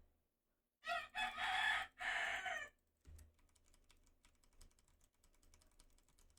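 A rooster crows once, loud and clear, followed by quiet rapid keyboard clicking.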